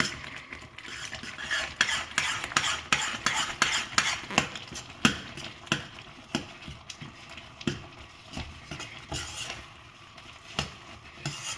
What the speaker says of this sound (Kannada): ಈಗ ರವೆ ಹಾಕ್ಕೊಂಡು ಓಕೆ ಕಲಿಸ್ಬಿಡಿ.